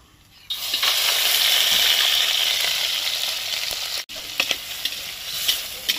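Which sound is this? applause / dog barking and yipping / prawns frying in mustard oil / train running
prawns frying in mustard oil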